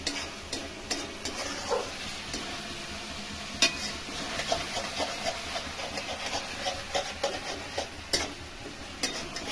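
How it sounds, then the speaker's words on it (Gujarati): Roasted tomatoes stirred into a pan for a Kathiyawadi brinjal bharta, with a steady soft sizzle and scattered scraping taps of a spoon against the pan, moderately close and without talk. "તો હવે આપણે શેકેલા ટમાટા નાખીશું, ટમાટા નાખી દીધા, અને થોડું મિક્સ કરી દઈશું"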